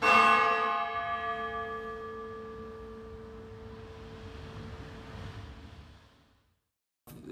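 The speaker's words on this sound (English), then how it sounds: "The Paul Molyneaux bell. Let me ring it once here." A single strike on a historic Paul Molyneaux church bell in an 1870 clock tower, a bright metallic clang that rings out with long sustained overtones and slowly decays for several seconds.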